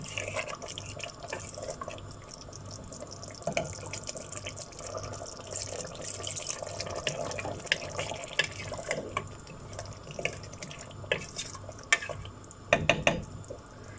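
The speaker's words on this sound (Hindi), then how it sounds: "इसमें थोड़ा पानी ऐड कर देंगे" Water is poured into a pot of bottle gourd and meat curry, a close, uneven trickling and dripping with a few clinks of cookware near the end.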